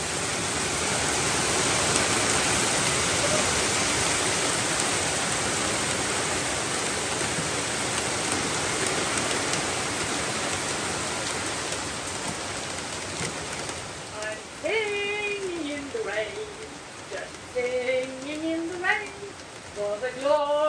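Steady rain falls on a sailboat, a dense continuous hiss that holds for most of the stretch, then thins as a woman begins singing over the softer patter near the end.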